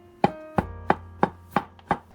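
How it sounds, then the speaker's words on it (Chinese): Knife slicing soaked shiitake mushrooms on a cutting board, six evenly spaced sharp taps close up with quiet gaps between them. "香菇切成片"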